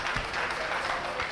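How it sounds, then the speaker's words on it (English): Brief applause from a workshop audience, a short steady wash of clapping with a voice briefly audible over it. "Big round of applause."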